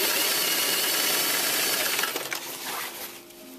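Sewing machine stitching a hem on a layered circle skirt, a steady loud mechanical whir that runs continuously before slowing and fading near the end, with no talk.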